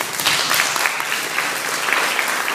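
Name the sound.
audience applause at mayor's breakfast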